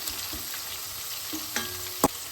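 Garlic and green chillies fry in oil for a Madurai-style goat blood fry, giving a steady, fairly quiet sizzle broken by a few soft clinks of stirring and one sharper knock near the end.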